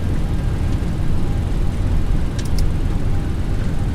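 A Boeing 737NG rolls out after landing in the X-Plane 11 flight simulator, with a loud, steady broadband roar of engines and runway rumble and a couple of brief high clicks.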